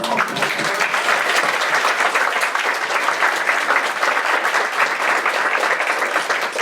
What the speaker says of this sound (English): I just want to actually give a round of applause to Laura for all of that.